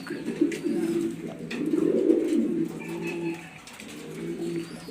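A grizzle pigeon cooing close up, a soft, sweet rolling call repeated in swelling phrases with brief pauses, alone without talk.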